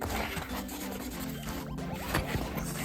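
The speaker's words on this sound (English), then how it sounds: "And that zipper is a little cheap." Zipper being drawn along a thin, cheaply made five-dollar game controller case, a dense continuous rasping zip with small scratchy catches, close and fairly quiet, no talking.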